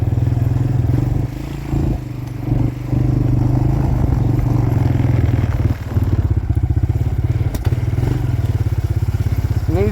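Suzuki LTZ 250 quad engine running steadily at close range while riding through woods at night, a continuous buzzing drone with brief dips in throttle and occasional clatter and thumps from the terrain.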